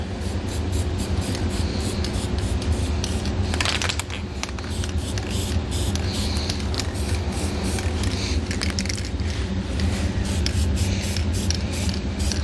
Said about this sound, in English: we're going to take some spray paint and we're going to spray the bare metal